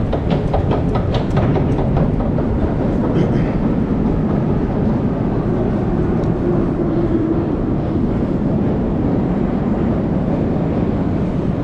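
A metro train in the Kiev underground at Arsenalna station makes a loud, continuous rumbling roar. Rapid rail clatter sounds early on, then it settles into a steady heavy drone with no speech.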